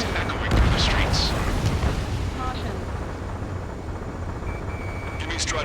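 Heavy gunfire and the deep roar of fighter jets in the Ace Combat 7 video game, echoing through city streets under martial law; a dense, continuous rumbling barrage with sharper bursts, loud and sustained throughout.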